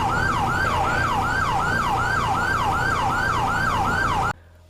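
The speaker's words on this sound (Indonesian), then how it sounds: "Wah, ada sirine merah dan birunya." A toy police patrol car siren wails in a rapid, steady up-and-down electronic cycle, loud and close, then cuts off abruptly near the end.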